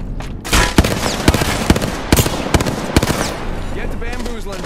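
Rapid gunfire from the video game Apex Legends, with sharp repeated shots over a dense battle din, loud and close, while a voice speaks over it.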